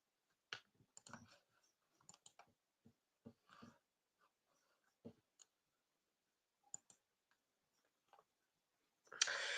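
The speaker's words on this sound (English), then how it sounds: "Yes, I did purposely type." Computer keyboard typing during a live Premier League football watchalong stream: sparse, quiet clusters of clicks with pauses, then a louder burst of noise at the very end.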